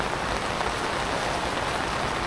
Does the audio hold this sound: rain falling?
yes